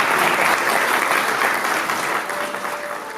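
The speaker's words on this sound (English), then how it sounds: "that itself deserves an applause. So if you can applaud those." Sustained audience applause at a golf club honoring event, a dense steady wash of many hands clapping that starts loud and gradually fades slightly toward the end.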